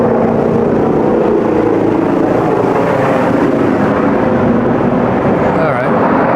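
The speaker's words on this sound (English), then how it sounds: "there's a helicopter going over my head right now" A helicopter passes overhead, a steady loud broadband rumble and roar that fills the whole stretch without letting up, with a voice talking faintly under it.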